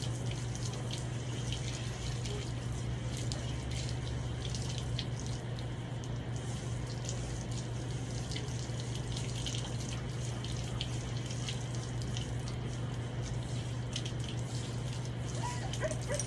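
Steady running water from a tap fills the scene while a large dog is bathed, a constant, close wash with a low hum beneath and no talking.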